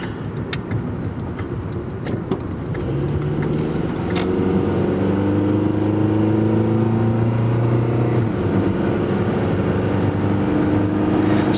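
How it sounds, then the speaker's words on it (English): Loud, steady hum of a 1995 Honda Accord engine while driving, rising as it accelerates and then holding a constant droning tone inside the cabin. "Has a good sounding engine, because it's loud"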